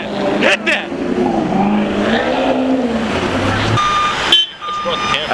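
A Maserati revs at a street car meet in NYC, its engine note loud and close under a crowd's shouting and chatter, with sustained roar and a brief dip near the end.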